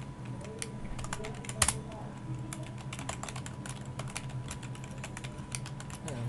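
Fingers typing PHP code on a computer keyboard, a close, irregular run of quick key clicks with short pauses and a few louder strikes, continuing throughout.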